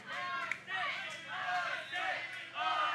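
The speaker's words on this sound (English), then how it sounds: "And you hear this crowd fully behind Austin James." A wrestling crowd at the AAPW Heatwave event roars in support of Austin James, chanting in rhythmic, repeated bursts of massed voices that rise and fall in an even beat.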